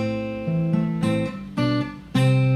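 Plucked guitar notes ring out in a short fingerpicked phrase from a song intro, several bright attacks a half-second apart, clear and close with no voice.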